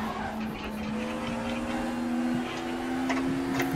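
Race car in RaceRoom sliding sideways during a classic touring car race at Vålerbanen, a steady engine drone with raspy tire scrub and squeal running continuously close up.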